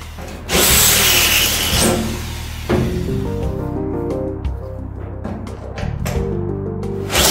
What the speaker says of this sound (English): Slightly larger drill bit size, so we drill out the holes